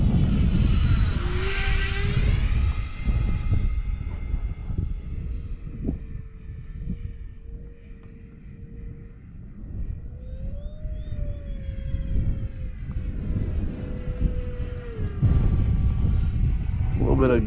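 A Delta Airbus A320 on a windy day, landing with gear down: loud, steady engine roar and airflow rumble, with rising and falling tonal whines over the noise throughout.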